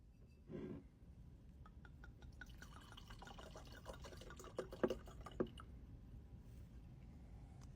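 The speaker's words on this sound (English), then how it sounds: "We're going to pour it in a glass." Bourbon-barrel-aged Josh Reserve wine poured into a wine glass, a quiet trickle with a few gurgles and splashy drips midway, faint and close, after a brief muffled handling thump.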